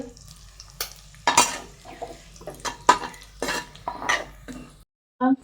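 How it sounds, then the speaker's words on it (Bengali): Fried cashews and raisins scraped from a pan into a bowl, with a run of close, clattering spoon-on-metal scrapes and clinks over a faint sizzle, ending in a short pause and one final knock. "আমরা একটা বাটিতে তুলে রেখে দিচ্ছি আমাদের কাজু কিশমিশটাকে"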